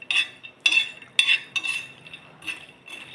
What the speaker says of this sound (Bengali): তো এটাকে আমি ভালো করে নাড়াচাড়া করে একদম রোস্ট করে নেব